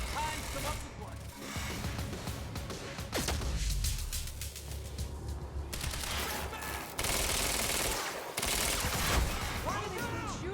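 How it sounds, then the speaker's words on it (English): Dense video-game gunfire in Quantum Break, with bursts of automatic fire, single shots and crashing impacts running almost without pause, loud and close, while voices talk over the shooting. "Why are they still shooting?"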